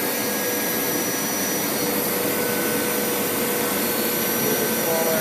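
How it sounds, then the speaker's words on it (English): A Hoover Power Scrub Elite carpet cleaner runs with its brushes spinning, giving a loud, steady broadband whir and motor whine that continues unbroken with no talk. "You hear the brushes starting up."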